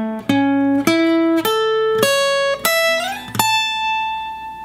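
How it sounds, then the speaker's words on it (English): Electric guitar picking a C-shape major arpeggio in a lead guitar lesson, six clear plucked notes stepping upward at an even pace, the last one left ringing out. "Alright, now we're ready to start our final arpeggio."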